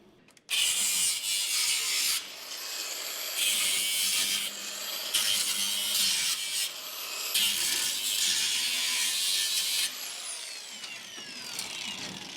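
A power cutting tool whines loudly in long bursts while nipping off the bed rail strips of a 1970 Chevrolet K10 4x4 truck bed, close up and without speech.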